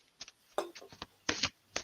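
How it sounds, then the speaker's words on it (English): Tarot cards being shuffled by hand in a few quick, crisp riffling bursts, close and fairly quiet, with short gaps between them. "give the cards a good shuffle."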